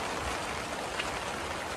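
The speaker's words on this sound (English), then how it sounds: "Oh, it's raining." Rain falls at a campsite in Wapiti, Jasper, Canada, a dense, even hiss of drops on surfaces that continues steadily without a break.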